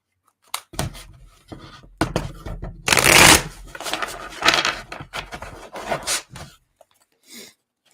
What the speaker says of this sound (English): Let's give you a good shuffle here.